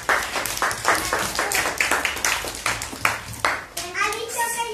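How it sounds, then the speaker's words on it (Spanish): Clapping from a class of four-year-old children, uneven bursts of small hands rising and fading across the clip, with young voices chattering and calling out over it. "¡Un aplauso, vamos!"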